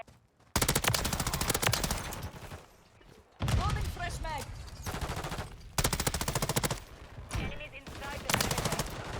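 Suppressed M13B assault rifle fire in Call of Duty MW3 comes in rapid automatic bursts separated by short pauses. It is loud and close in a game match, with a voice talking over parts of it.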